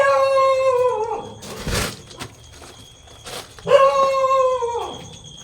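A dog howls in long, wavering, falling cries, two drawn-out howls separated by a pause filled with rustling and breathy noises, fairly close and loud.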